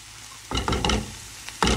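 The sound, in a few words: green chilies added to a frying pan, sizzling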